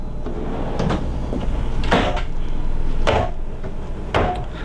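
A pull-out trash can drawer in the kitchen of a new 2018 Newmar New Aire 3341 RV slides and bumps shut, giving three sharp knocks about a second apart over a steady low background hum.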